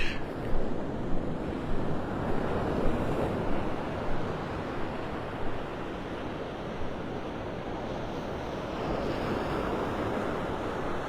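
Ocean surf rolling onto the beach at Pelican Bay in North Naples, Florida, a steady broadband wash with repeated breaking swells and light wind buffeting the microphone, no voices.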